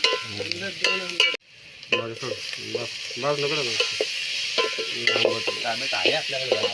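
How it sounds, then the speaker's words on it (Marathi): Onion stirred and frying in oil in a pan outdoors by a river, a soft sizzle running under frequent nearby talking, with scraping spoon strokes and a brief dropout partway through. "कांदा एकदम लाल होईपर्यंत हलवायचा"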